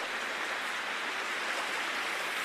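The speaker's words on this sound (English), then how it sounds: "there's a little waterfall up there" A small waterfall flowing outdoors on a walk at Lowna, a steady, even hiss of running water with no breaks and no voices.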